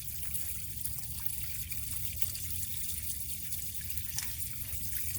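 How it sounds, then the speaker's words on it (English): Water spilling and trickling steadily out of pool pump equipment as drain plugs are pulled during winterizing, a continuous close splashing drip with no voices. "I'm going to take out my drain plugs first because it's going to spill like crazy."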